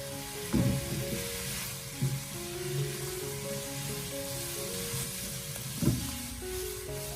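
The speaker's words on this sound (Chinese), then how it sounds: "这时候再将火候调为中大火，给它快速的翻炒一下，把所有食材翻炒均匀" Diced potatoes being stir-fried in a wok over medium-high heat, giving a steady low sizzle with a few sharp scraping clatters of tossing spread through it.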